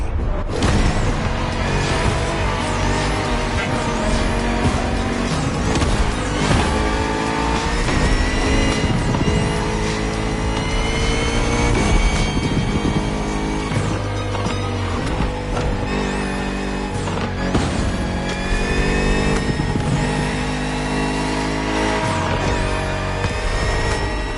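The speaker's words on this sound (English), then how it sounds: "Bugatti served me one last exclusive piece of art on a plate. The Bugatti Vision GT." A Bugatti Vision GT engine in the racing video game The Crew Motorfest roars loudly and continuously throughout, with sustained revving and shifting engine tones, tire noise and game music layered over it.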